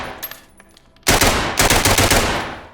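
Fully automatic bursts come from an M14 rifle in the tactical shooter game Ready or Not. A loud, rapid string of shots starts abruptly after a quiet moment, then a second sustained burst follows close up.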